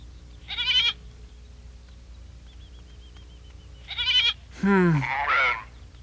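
Goats bleat in a few separate bursts, the last one louder and wavering, over a quiet low background hum, in an animated cartoon.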